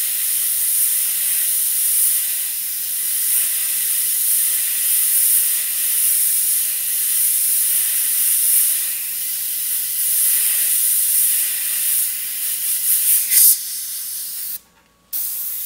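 Continuous airbrush hiss spraying paint onto a masked shield and panel, close and steady, with a brief pause near the end before the spray resumes.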